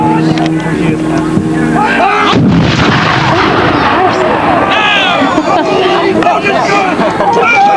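Cannon artillery fires at a Civil War reenactment of the Battle of Long Springs at Sequoyah Caverns: one loud, close boom crashes in partway through and rolls on with a long echo over crowd chatter and commentary.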